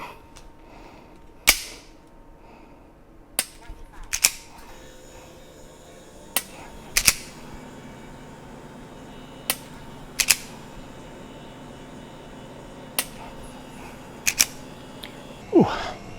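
Sharp single shots fired on a Mantis training system during a 20-shot drill, each crack clearly separated by a few seconds of quiet, some arriving in quick pairs, close and loud over a low room hum.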